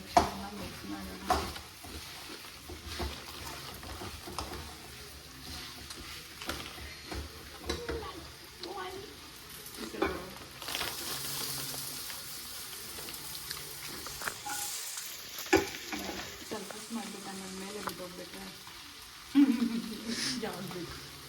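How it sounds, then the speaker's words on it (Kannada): Chicken pepper dry being stirred with pepper powder in a frying pan at home, soft scraping and gentle sizzle in uneven strokes, with faint background voices and a brief higher tone partway through. "ಸೊ ಪೆಪ್ಪರ್ ಪೌಡರ್ ಹಾಕೊಂಡು ಸ್ವಲ್ಪ ಚೆನ್ನಾಗಿ ಮಿಕ್ಸ್ ಮಾಡೋಣ."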